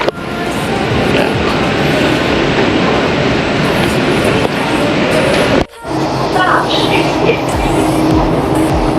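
Singapore MRT train arriving at Gardens by the Bay station, a loud continuous rumble and rail roar filling the platform, with a brief dip midway and faint voices in the background.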